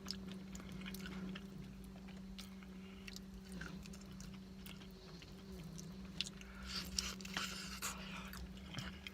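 Close, quiet crunchy chewing of crunchy Filipino chicken with irregular bites and crackles, over a faint steady background hum.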